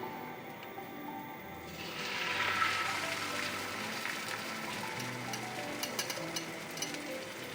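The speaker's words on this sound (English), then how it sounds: "when it stops making the hissing sound, that means you're good." A hot pan hissing before eggs go in: a soft broadband sizzle rises after a couple of seconds and holds steady, close and moderately quiet, with faint crackles and no voice.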